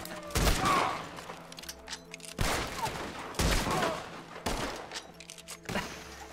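Gunfire in the Red Dead Redemption 2 video game rings out as several loud, booming shots, each followed by a long echoing tail, spaced roughly a second apart, close and dominant.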